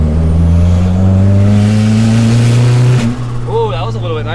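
The LS-Z car's engine holds a loud, steady roar under load during a pull, then drops off near the end as a voice starts talking over it.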